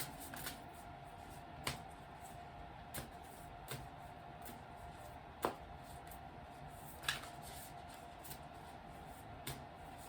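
Quiet shuffling of tarot cards, with soft rustling and occasional crisp snaps spaced irregularly over a faint steady hum.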